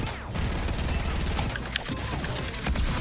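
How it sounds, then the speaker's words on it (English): Rapid gunfire exchange in Fortnite, a dense run of shots crackling steadily for about three seconds at close range, with a faint voice underneath. "Oh, we both shot each other."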